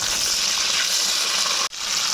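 Marinated rohu fish pieces fry in hot oil with a steady, loud, dense sizzle that briefly cuts out near the end before resuming.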